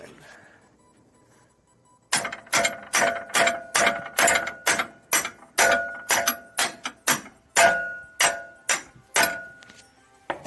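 Repeated sharp metallic strikes of a 2 or 3 pound hammer on a socket extension, around twenty blows in a steady rhythm, loud and close with ringing clanks, during repairs on a Suzuki Samurai.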